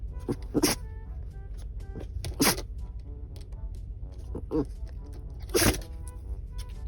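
A dog gives a few short, sharp sneezes spaced a couple of seconds apart, close by, amid some rustling and background noise.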